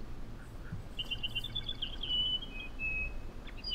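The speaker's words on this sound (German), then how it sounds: "Ach, man hört die Vögel zwitschern." Birds chirping in the survival video game DayZ, a faint series of high, rapid tweets trailing into a thin whistle, heard over a low, steady ambient hiss with no talk.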